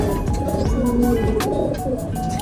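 A pigeon coos close by in repeated low, throaty calls with a rolling rhythm, standing out over a busy loft background of other birds.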